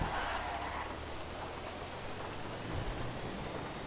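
Steady rain in Grand Theft Auto 5, a soft continuous hiss of falling drops on surfaces, faint and even throughout with no voices.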